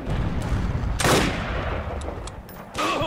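Gunfire from Forgotten Hope 2 combat, a loud burst of shots near the one-second mark and another at the end over continuous dense battlefield noise, with faint clicks in between.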